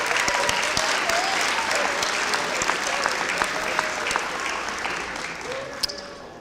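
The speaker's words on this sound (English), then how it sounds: "Let's give them a round of applause real quick." An audience at a high school senior awards ceremony claps for the jazz band led by Mr. Tomko. The sustained applause is full and even and tapers slightly toward the end.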